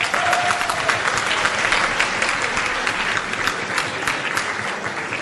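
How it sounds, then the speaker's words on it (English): An audience applauds at a Yom Hashas celebration, a dense sustained clatter of many hands clapping, fairly loud and even throughout with no voices on top. "Please give a round of applause to Alex Levy."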